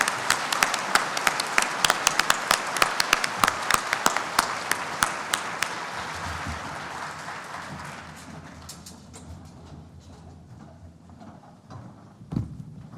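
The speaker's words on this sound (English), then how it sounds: "Please, a round of applause." Audience applause in a room at a 2025 awards luncheon, steady crisp clapping from many hands that gradually thins and fades out, with a faint thump near the end.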